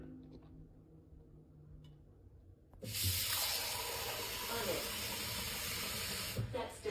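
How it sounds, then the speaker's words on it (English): A smart faucet pours water into a container in a home kitchen, a steady close hiss of running water that starts abruptly about three seconds in and continues to the end, after a quieter stretch of room noise. "pour me 2 cups of water."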